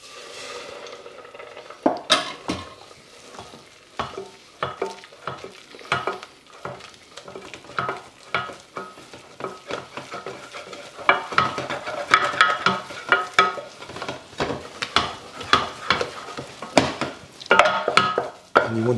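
Whisk or spoon stirring milk into a roux for a smooth béchamel sauce in a pan, steady repeated scraping strokes with a faint sizzle underneath, clattering close and fairly loud with no voices.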